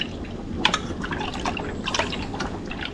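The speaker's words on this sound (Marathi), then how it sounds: "हे बघा एवढं असं पाणी ओतायचं" Water being poured into whisked yogurt (curd) in a bowl, heard as close liquid splashing and dribbling that carries on steadily for a few seconds, with no one talking.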